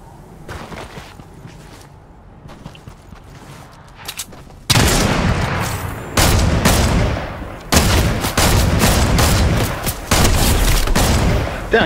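Heavy rifle shots from a sniper in a Fortnite match start after a quiet stretch of faint clicks and movement, then a run of loud, booming cracks follows in quick succession, one after another.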